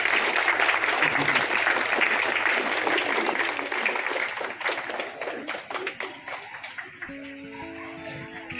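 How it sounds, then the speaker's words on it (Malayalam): An audience at a community association gathering in Kerala claps in welcome for an honoree, a full burst of applause that thins into scattered claps while a tonal hum or music comes in near the end. "എല്ലാവരും നിറഞ്ഞ കൈയടിയോട് കൊടുക്കുക."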